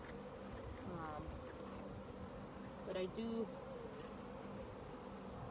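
Honey bees buzzing over a frame pulled from a newly installed nuc hive during an inspection, a steady close hum throughout with someone briefly speaking over it.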